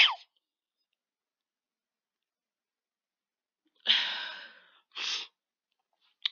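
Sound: person sneezing

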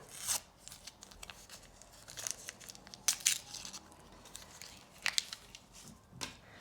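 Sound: tearing open a paper surprise packet

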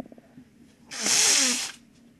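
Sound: person blowing their nose

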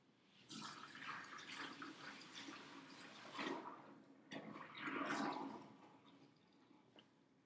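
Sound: sanitizer liquid being emptied out of a pot

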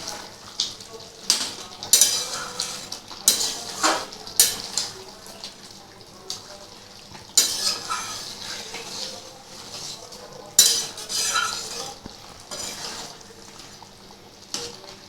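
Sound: stirring mutton with black pepper in a pan

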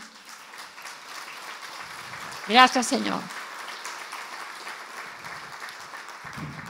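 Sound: congregation applauding in church

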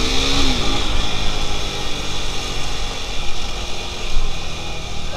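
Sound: motorcycle riding past

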